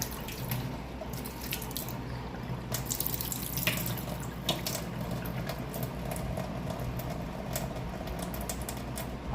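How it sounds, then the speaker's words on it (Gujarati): Water drains off in a home kitchen with a steady close splashing and pattering, continuous and fairly loud throughout. "હવે આપણે આ પાણી બધું નિતારી લઈએ."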